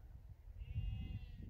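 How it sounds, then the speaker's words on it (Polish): Sheep bleat once, a drawn-out wavering call at moderate distance, over low rumbling background noise in a home kitchen setting. "Barany wokół mnie"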